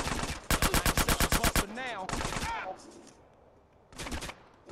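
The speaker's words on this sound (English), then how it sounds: "Who's shooting me?" Rapid automatic gunfire rattles in fast bursts in the video game GTA San Andreas, with a long volley followed by shorter ones. Brief voices break in between the shots.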